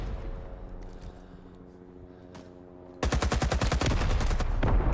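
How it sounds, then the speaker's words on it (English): Rising Storm 2: Vietnam machine gun fire starts abruptly partway through as a steady, rapid string of loud, evenly spaced shots. A quieter droning hum with a faint thump comes before the burst. "Guy firing an MG up this hill."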